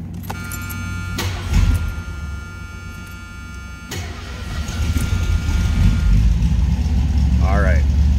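A 1979 Ford Thunderbird with T-tops cranks and fires up, a few sharp clicks giving way to a low rumbling engine that settles into a steady, growing idle.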